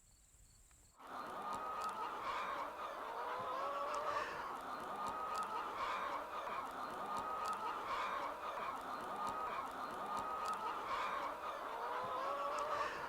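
A dense flock of hens in portable mobile hen houses on a pasture farm clucking and squawking continuously, a busy overlapping chorus of poultry calls that starts abruptly and stays steady.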